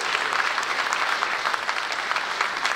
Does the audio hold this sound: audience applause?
yes